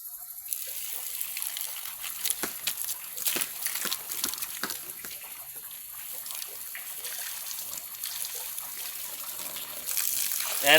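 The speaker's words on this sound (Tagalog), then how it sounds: "Ayan mga guys, malakas na yung tulo." Water runs from a siphoned hose in a forest, a steady hissing trickle with scattered splashy drips, fairly faint and close, growing slightly stronger toward the end.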